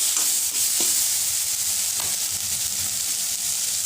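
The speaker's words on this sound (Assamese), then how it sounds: "ভালদৰে লাৰি দিছোঁ মই" Ground spices including chilli, cumin and coriander powder fry in a pan for a fish head curry, a loud steady sizzle with a few scraping stirs of a spoon, close and continuous.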